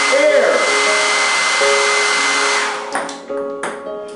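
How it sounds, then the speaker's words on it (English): A blow dryer roars with a steady whine as its airflow holds a ball aloft, loud and close, with the pitch shifting and dipping as it is angled side to side. "I can actually angle the blow dryer to one side or to another."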